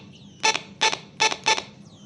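Four short electronic beeps, buzzy and bright, in a quick irregular pattern from the small speaker of a homemade IR remote control tester nearby, triggered by a remote pointed at it.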